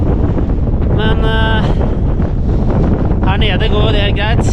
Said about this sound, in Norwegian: Blåser litt her oppe